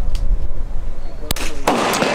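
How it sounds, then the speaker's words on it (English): Handgun shots on a practical shooting match stage where targets sit on stacked tubs: two sharp, loud reports about a third of a second apart, close by, over outdoor background noise. "this was a stage where you'd shoot off these tubs and then stack the tubs and continue to shoot off them as you went up"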